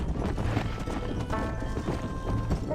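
Horse hooves clip-clopping at a trot in the Red Dead Redemption video game, a steady rhythmic patter of close hoofbeats with a brief whinny and faint game ambience behind.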